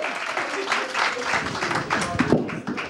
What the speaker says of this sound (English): Clap it up one time for Ray, ladies and gentlemen.